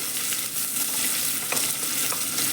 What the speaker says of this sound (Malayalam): എല്ലാം ഇട്ട് നമുക്ക് നന്നായിട്ടൊന്ന് വഴറ്റി ഇളക്കി മൂപ്പിച്ച്